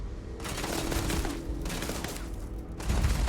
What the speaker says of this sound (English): Oh, something exploded through there.